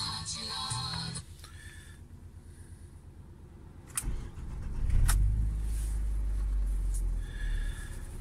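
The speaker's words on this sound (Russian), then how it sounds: "Заводим машину." A 2019 UAZ Patriot's engine cranks and starts after a few seconds of quiet cabin noise, then settles into a steady, loud low idle rumble heard from inside the vehicle.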